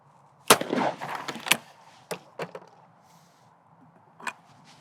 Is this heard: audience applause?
no